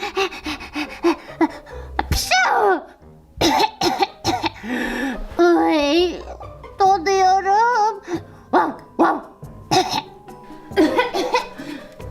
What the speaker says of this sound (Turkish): şiddetli öksürüyorsun